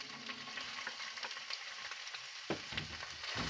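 Beef frying in a hot, lightly oiled pan: a steady close sizzle and crackle with scattered pops, and a brief stir scraping partway through.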